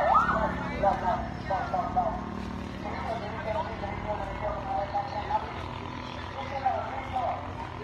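A fire truck siren wails with a rising and falling tone during a fire in Tigbao, Zamboanga del Sur, heard under excited voices talking in the crowd nearby.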